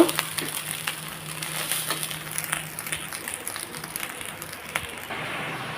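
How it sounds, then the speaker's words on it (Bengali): Turmeric and spices sputter while frying in a pot for khichuri, a steady crackling sizzle with scattered pops running throughout at moderate level. "ভালোভাবে হলুদটাকে অ্যাডজাস্ট করে নিয়েছি আর পুটপুট করে ফুটছে"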